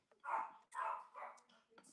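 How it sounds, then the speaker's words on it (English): A pet dog barks in a home, three sharp yapping barks in quick succession, fairly close and alone without talk. "Sorry, you guys, my dog is probably so annoying."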